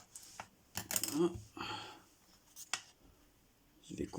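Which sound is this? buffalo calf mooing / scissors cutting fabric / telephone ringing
scissors cutting fabric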